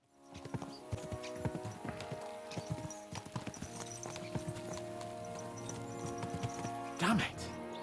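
Horses ride along in Kingdom Come: Deliverance II, their hooves clip-clopping in a steady galloping rhythm over game music and ambience, with a brief whinny-like burst near the end.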